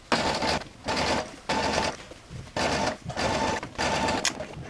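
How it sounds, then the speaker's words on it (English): Sewing machine stitching fabric for kids' shorts, running in about six loud close bursts of rapid whirring stitches separated by brief pauses as the fabric is turned and sewn back the other way. "lift up our presser foot again with our needle down, and go back the way we just came"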